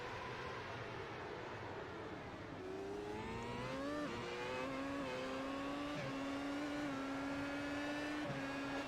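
A Pro 1 race car engine revs high, around 10,000 rpm, at the start of a race. The steady, loud engine drone rises in pitch, dips, then climbs again as the car launches, with no voices.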